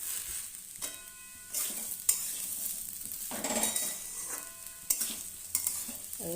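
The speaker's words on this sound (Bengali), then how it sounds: "এখন চাল ভাজতে থাকি এই যে ভাজা হয়ে এসছে" Rice fries in a pan for pulao, a close sizzle broken by several distinct stirring scrapes and light clinks of a utensil against the pot, with no talking.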